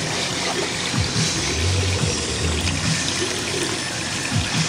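Water flows steadily through a C-siphon overflow on an aquarium tank and sump system, a continuous gurgling rush with bubbling surges and low sloshing pulses, close and even throughout without voices.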